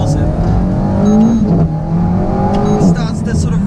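An Alpine A110 sports car engine revs hard and climbs in pitch past 5,500 rpm, loud and close, with the rising whine of acceleration filling the cabin.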